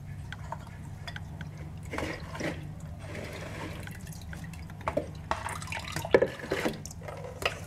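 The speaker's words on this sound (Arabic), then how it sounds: "سأضعها لتتقطر جيدا قبل أن أقسمها لحصص وأحتفظ بها في المجمد" Blanched spinach draining after an ice-water bath, with faint scattered drips and small splashes of water over a quiet background, getting a little busier near the end.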